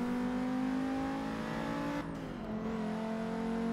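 An Audi TT engine in the Forza Motorsport 6 racing game, revving loudly and steadily with a sustained drone and a brief gear-shift dip midway, no voice over it.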